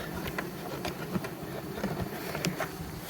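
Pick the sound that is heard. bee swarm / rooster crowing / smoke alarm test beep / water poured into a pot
bee swarm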